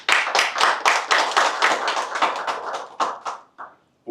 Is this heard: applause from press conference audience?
yes